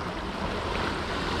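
Strong sea waves surge in a steady, dense roar close by, with wind buffeting the microphone and no voices.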